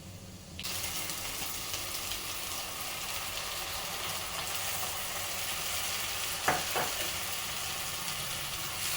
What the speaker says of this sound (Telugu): దాన్ని కూడా ఇందులో వేసేసుకొని మంచిగా మనము పచ్చివాసన పోయే వరకు మనము దీన్ని వేయించుకోవాలి ఈ ఆనియన్స్తో పాటు